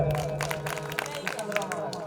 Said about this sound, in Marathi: त्यांसाठी जोरदार टाळायला ठेवा